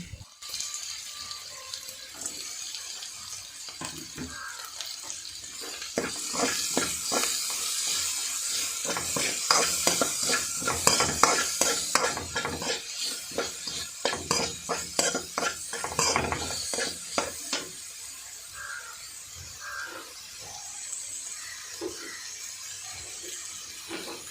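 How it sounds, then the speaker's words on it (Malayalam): Chopped onions and green chilies stir-frying in a pan, a spoon scraping and clinking against the metal in quick bursts over a continuous close sizzle, with no talk. "ഇനി നമ്മൾ കട്ട് ചെയ്ത് വെച്ചിരിക്കുന്ന സവാള കൂടെ ഇതിൽ ചേർത്ത് കൊടുക്കാമേ"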